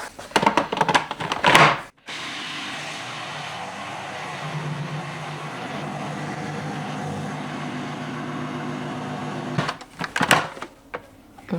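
Blender blitzing roasted honey cashews with peanut butter in a home kitchen, a steady loud whirring grind for about eight seconds, bracketed by clattering handling noises before and after.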